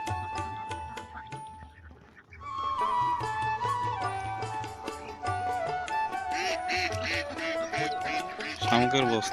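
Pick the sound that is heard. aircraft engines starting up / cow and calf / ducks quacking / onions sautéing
ducks quacking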